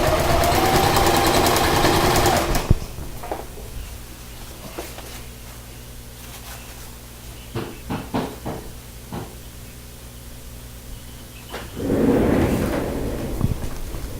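A sewing machine stitches a hammock hem, running in a steady loud burst at the start and again near the end, with quieter handling clicks and fabric sounds in between.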